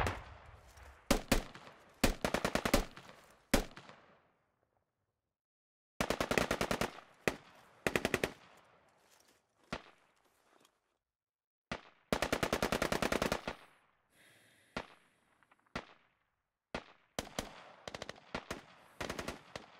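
Gunfire in the military shooter game Squad during forest combat, sharp bursts of automatic fire and single shots coming in clusters separated by silent gaps, loud and close.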